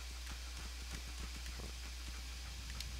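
A dog companion's footsteps in Fallout 4 pad along in a faint, steady series of soft taps over a low, constant background hum.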